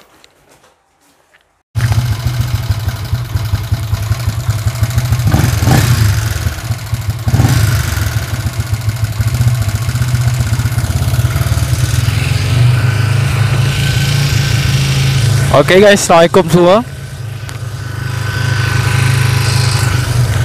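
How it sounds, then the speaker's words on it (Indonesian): Yamaha LC motorcycle engine tuned with a 24mm PWK carburetor and 62mm spec bore, idling loud and steady with a deep throb and one brief revving blip near the end, after a short greeting. "motor pun dah hidup"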